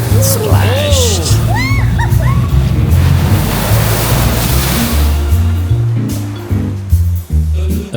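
Theme-park water ride at Disney World dropping into a splash, a rushing surge of water amid riders' yells and background voices and music, fading out near the end.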